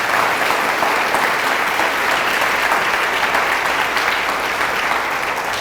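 A church congregation breaks into loud, sustained applause for Jesus of Nazareth during a Catholic priest's sermon, a dense, steady wall of clapping that holds for the full stretch.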